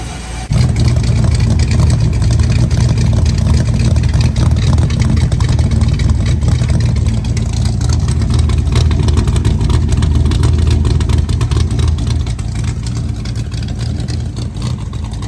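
A Chevy LS3 V8 engine runs close by in a loud, continuous deep rumble with a throaty idle and slight rises in pitch, and no voices over it.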